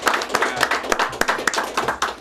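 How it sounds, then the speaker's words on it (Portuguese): A burst of clapping from a small studio audience, dense and steady for a couple of seconds with no voices over it. "uma salva de palmas para Edmundo"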